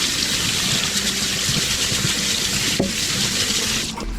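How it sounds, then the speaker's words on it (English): A kitchen sink tap runs steadily and loudly while something is rinsed under the stream, water splashing close by, with a brief clunk near the end as the flow cuts off. "rinse this off."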